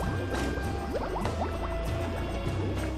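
Underwater, a crocodile blows a stream of bubbles that bursts into dense gurgling, popping and bubbling noises, loud and close, with a few quick rising blips.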